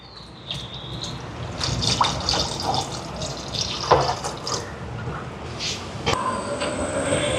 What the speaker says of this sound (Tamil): இதோட முதல் ஆம்பாலும் சேர்க்குறேன்.